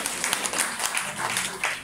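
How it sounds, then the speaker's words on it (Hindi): An audience at a health talk in India claps, with scattered individual claps over a busy noisy background that rises and falls in uneven bursts. "तो एक बार जोरदार तालियां।"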